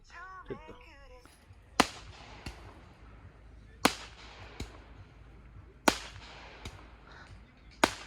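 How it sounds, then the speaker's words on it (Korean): Sharp fireworks cracks and bangs go off at irregular intervals near a campsite at night, some loud and close, others fainter, over a quiet background with brief faint voices. "진짜 저기 불꽃놀이야 불꽃놀이"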